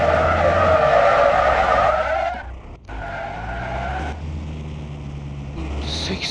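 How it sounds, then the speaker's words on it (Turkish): A car drifting on a city street, tires skidding and squealing loudly for a couple of seconds, then engine noise and road rumble as it carries on. "Ben drift atacağım ha burada"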